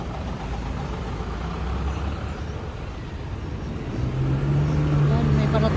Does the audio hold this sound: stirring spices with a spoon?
no